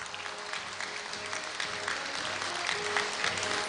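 Steady, dense applause from a large audience at a university degree-conferral ceremony fills the hall, sustained and even throughout without pause.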